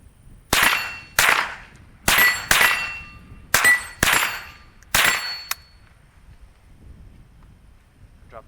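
Seven .22 rifle shots hitting a steel plate target at 25 yards, each a sharp crack followed by a ringing metallic clang, fired in quick pairs and singles, then quiet.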